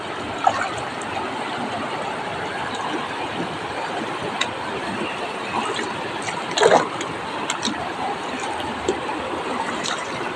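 River water flowing at Nambalan Mayantoc River, a continuous soft rushing wash with occasional small splashes and clicks, steady and moderately close throughout.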